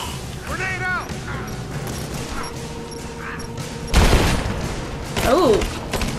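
In Rise of the Tomb Raider, gunfire crackles amid game ambience before a loud grenade explosion bursts, followed by another heavy blast and scattered shots.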